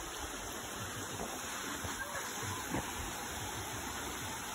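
An outdoor stream current rushes with a steady, even wash of flowing water, fairly close and constant throughout, with faint voices in the background.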